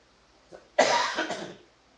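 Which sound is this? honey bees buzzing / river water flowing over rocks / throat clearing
throat clearing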